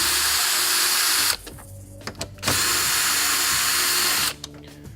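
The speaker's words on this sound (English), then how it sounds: "We'll just use our drill to pull them off." A power drill whirs loudly and steadily, removing 10mm bolts from a Tesla Model S bumper, stops briefly with a few clicks and rattles, then spins up again for another long run.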